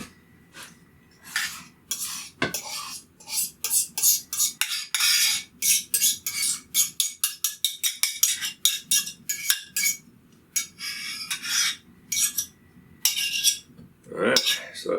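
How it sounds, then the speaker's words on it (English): A fork clatters and scrapes rapidly against a bowl while mixing banana, condensed milk and rum for a banana pudding, a dense run of close metallic clinks with brief pauses and no talk. "Just actually use the fork for mixing that up."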